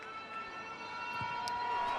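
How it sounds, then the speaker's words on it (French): Half-time siren at a rugby league grand final at Stade Gilbert Brutus, Dragons Catalans against St Helens, a steady sustained tone rising slowly in loudness, distant over the stadium crowd. "Tompkins qui attend que la sirène retentisse"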